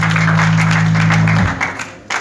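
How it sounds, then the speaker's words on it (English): Church congregation clapping hands together in praise during a worship service, dense loud applause for about a second and a half, then fading out quickly. "Let's just clap hands for Jesus."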